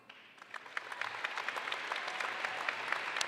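Applause for graduating engineering and computing students at a college commencement ceremony, a crowd's clapping swelling from a few claps into steady dense applause that carries on to the end.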